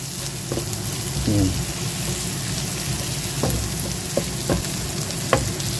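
Mung beans sautéing for Filipino ginisang munggo, a steady close sizzle and fry in the pan with occasional stirring scrapes and clinks throughout.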